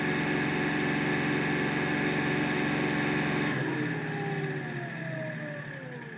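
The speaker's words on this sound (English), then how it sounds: "It's a little 3-cylinder, so its idle is a little higher, but it's not bad." A Kioti NX6010 tractor's three-cylinder engine idles with a steady, fairly high-pitched hum that drops in tone and fades somewhat after a few seconds, heard from inside the cab with no talking.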